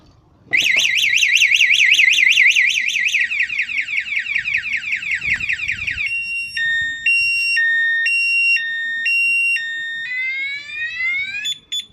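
A loud electronic anti-theft alarm on an MSX motorcycle cycles through warbling, sweeping and alternating two-tone beeping patterns, close and alone.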